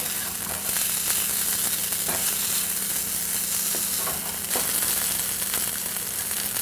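Chinese sausage and rice fry in a pan with a steady, dense sizzle, broken by occasional stirring scrapes and soft crackles.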